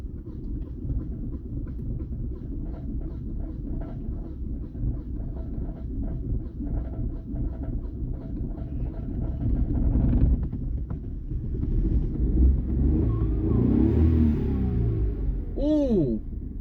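A Vauxhall Corsa C on a short test drive gives a steady low rumble of engine and road noise from inside the car, swelling midway, with brief faint speech near the end.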